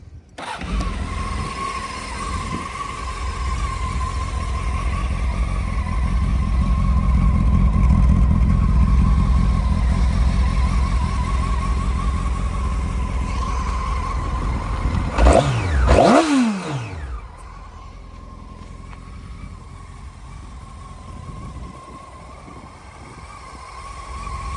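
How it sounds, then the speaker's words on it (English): A Hornet minitruck engine running with a steady mid-pitched drone that swells and eases, then rises briefly in pitch near the end before settling to a lower idle. "the last time you're gonna hear this engine"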